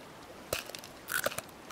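Crunchy eating sound from a character chewing food in the survival video game Sons Of The Forest: a few quick, crisp crunching bites, fairly quiet, with no talk over them.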